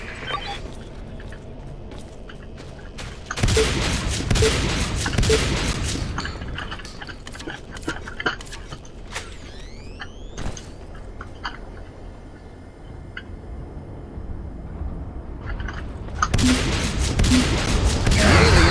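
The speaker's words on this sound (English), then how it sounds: "Go try out your new shotgun" Shotgun fire in the video game Natural Selection 2 comes in two dense bursts of blasts at the start and end, with quieter mechanical clicks and whirs between them.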